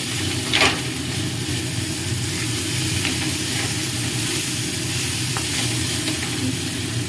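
Potatoes and chili fry in an oil-filled pan with a steady, close sizzle that runs the whole time, broken by a few brief crackles and pops and no voices.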